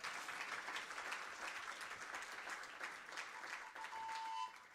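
A university awards audience breaks into steady, continuous applause from many hands, fairly even throughout and heard at a distance.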